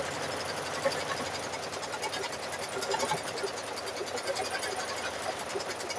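A sewing machine runs at a steady, even whir, free-motion quilting Christmas quilts for grandkids, the motor humming continuously with no voices.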